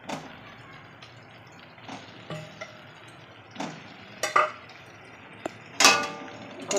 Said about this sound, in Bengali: এই যে এখন আমি ডিম ভাজাটা দিয়ে দেবো।